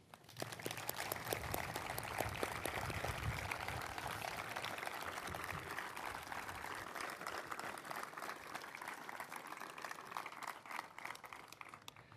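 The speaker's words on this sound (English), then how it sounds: "Please join me in a round of applause for Team Brown." A seated audience at a military medical center change of command ceremony applauds for about twelve seconds, a dense, steady patter of many hands heard from a distance, fairly soft and unbroken until it tapers off at the end.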